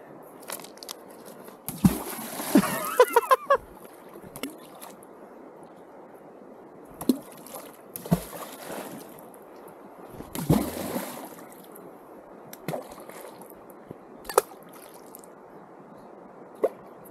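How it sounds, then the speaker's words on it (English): Rocks thrown into a river, landing in a handful of separate splashes and plunks scattered over quiet moving water, some near and some farther off. "Of us chucking rocks in the water."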